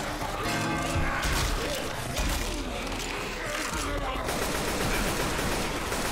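Rapid video-game gunfire in Left 4 Dead 2, dense bursts of automatic shots and impacts crackling throughout, loud and close, with people talking over the chaos.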